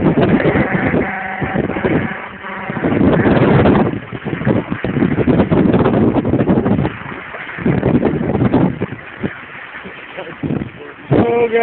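Wind buffets a microphone beside a river during a fishing trip, a loud broadband rumble that rises and falls in gusts across the whole stretch, with faint background sounds mixed in.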